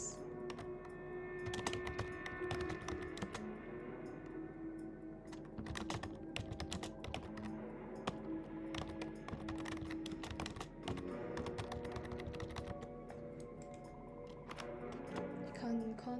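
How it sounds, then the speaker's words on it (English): Rapid, continuous clatter of typing on a loud computer keyboard, close to the microphone, with steady keystrokes over a constant background hum for about sixteen seconds. "My keyboard is probably gonna be very loud,"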